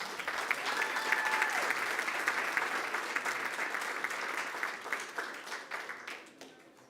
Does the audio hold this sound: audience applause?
yes